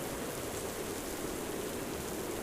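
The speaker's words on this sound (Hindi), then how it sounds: "आसमान में अचानक काले बादल घिर आए और तेज" Heavy rain pours down suddenly from dark clouds over a village, a dense, steady rushing hiss that holds evenly throughout with no voices.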